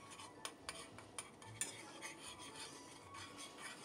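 Turkey is stirred into a pan of gravy with a spoon, making soft scraping, gentle clinks against the pan and a faint sizzle, quiet and close with no voices.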